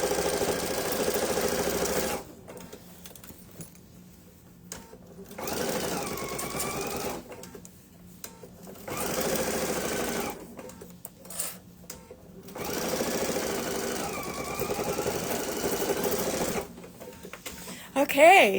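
Domestic sewing machine stitches binding onto a backpack gusset in several steady bursts of whirring, broken by short pauses, close and fairly loud, with brief talk at moments.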